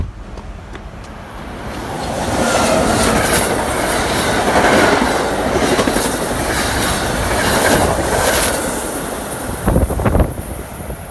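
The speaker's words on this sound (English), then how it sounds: "Here comes a train." Diesel equipment train rolling past on a railway, rising to a loud sustained roar with rumbling wheels, clickety-clack over rail joints and some squealing, heard close by and alone with no talk.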